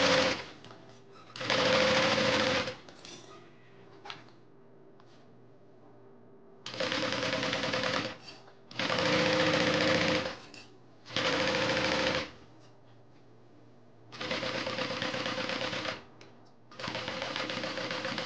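A sewing machine stitches pieces onto a Colette bag in loud, close bursts of rapid whirring, seven runs of one to two seconds each, separated by quiet pauses with a faint hum.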